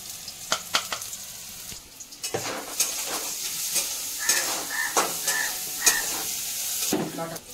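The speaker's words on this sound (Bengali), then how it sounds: "দিদি সয়াবিনটা ভাজছে," Soybean chunks fry in a pan for a chickpea ghugni, a steady sizzle and hiss broken by repeated scraping and clinking of a spatula against the metal, close and clear.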